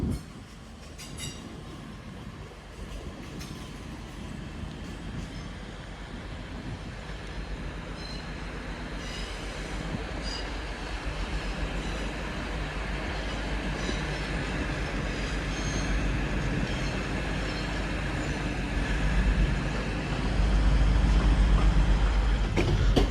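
A passenger train pulls out of Manchester Piccadilly bound for Bristol Temple Meads, its engine rumble and wheel noise building steadily and growing louder as it gathers speed past the platform.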